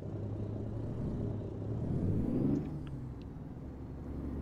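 A modded truck in a truck-driving video game gives off a quiet, steady engine rumble. The drone swells briefly midway before settling back to an even low hum.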